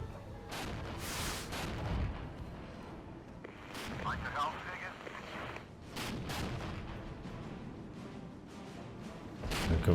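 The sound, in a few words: Gvozdika self-propelled artillery firing in the video game Regiments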